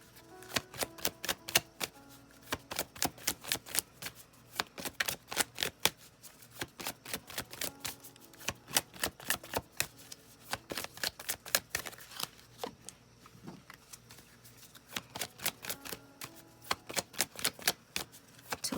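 A deck of tarot cards is cut and shuffled nearby, making rapid bursts of crisp riffling clicks with short pauses between rounds. The sound is fairly quiet and heard alone.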